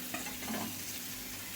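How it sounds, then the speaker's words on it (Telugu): Carrot and capsicum pieces fry on a high flame for a pasta dish, giving a steady close hiss and sizzle with faint stirring scrapes and no voices. "ఇప్పుడు హై ఫ్లేమ్లోనే పెట్టుకొని వేయించుకోవాలండి."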